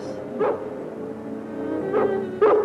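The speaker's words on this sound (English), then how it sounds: "that sounds like King's bark" A dog gives three short yipping barks, one on its own early and then a quick pair near the end, moderately close against a quiet backdrop with no speech.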